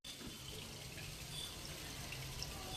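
Tap water pours steadily into a kitchen sink where fish are being cleaned, a continuous hissing splash close by that holds at an even level throughout, with no voices.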